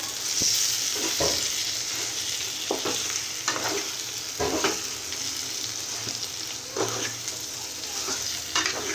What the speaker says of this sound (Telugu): ఇలా ఆయిల్ బయటకు వచ్చేంత వరకు వేయించుకోవాలండి చూడండి ఎలా వేగిందో